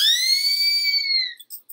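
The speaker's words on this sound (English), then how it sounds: "A whistle makes a noise." A single clear, high whistle blown steadily for over a second, pitch rising slightly then falling away, followed by a couple of faint short chirps.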